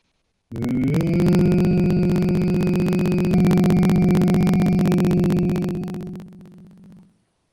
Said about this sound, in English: take a deep breath, and then hum deeply and intensely